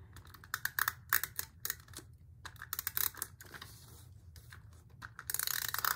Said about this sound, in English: to glue this down, I've got my Tombow permanent adhesive tape runner here.